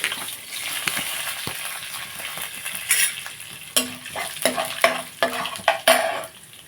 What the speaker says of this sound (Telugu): జీడిపప్పు కూడా వేసుకుని దీన్ని ఫ్రై చేసుకుందాం